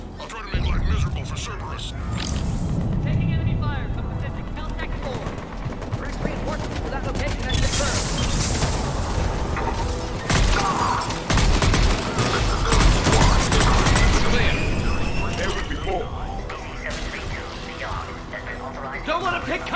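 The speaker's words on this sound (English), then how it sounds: "Taking enemy fire." Dense gunfire from the video game Mass Effect, with rapid bursts and sustained volleys plus mechanical clatter and impacts, loud throughout, with voices speaking over the combat.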